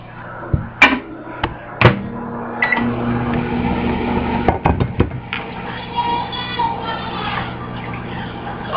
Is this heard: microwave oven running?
yes